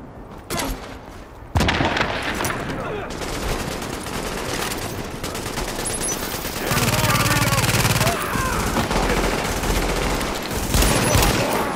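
Sustained gunfire in The Division, a patrol battling cleaners at a Manhattan street corner: heavy automatic bursts and scattered booms that keep rolling, with a radio-style voice speaking over the fighting.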